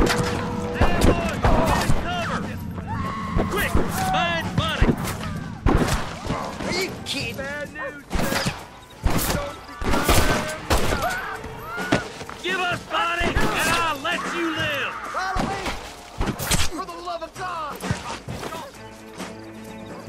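Gunfire erupts in a Red Dead Redemption shootout, sharp cracking shots scattered irregularly through the scene amid hoofbeats and game noise, with frequent shouted dialogue over it.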